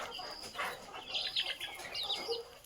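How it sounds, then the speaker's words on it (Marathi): Two-month-old desi village chicks pecking at drumstick leaves give soft, high chirps and little clucks scattered through a quiet, close scene. "आपण शेवग्याचा पाला त्यांना टाकलेला आहे व किती छान प्रकारे खाता आहेत ते बघा"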